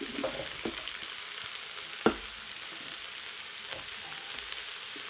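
Onions and mushrooms sizzle steadily in hot oil in an Instant Pot on sauté, a continuous close hiss with a single sharp utensil clack partway through and a few softer stirring bumps.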